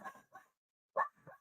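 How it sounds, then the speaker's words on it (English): A dog barks in short sharp yips, two quick ones, a brief pause and then two more, close and fairly loud against an otherwise quiet background. "That's the dog."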